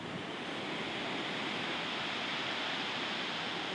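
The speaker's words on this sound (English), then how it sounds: "I feel like the ocean is louder here in the UK than in the US" Loud, steady roar of ocean waves breaking on a rocky beach in Brighton, a continuous broadband wash of surf with no pauses and no voices.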